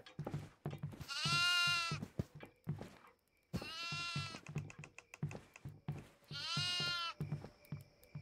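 Goat bleats inside the horror video game Devour, three long wavering calls with short gaps between them, loud and close, set against a faint ambient background.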